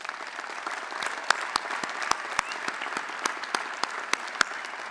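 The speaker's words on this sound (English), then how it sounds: "So give yourselves another round of applause." Graduates and crowd applauding at the UW–Madison spring commencement 2022, a broad distant wash of clapping in a large venue with a few sharper nearby claps popping out above it.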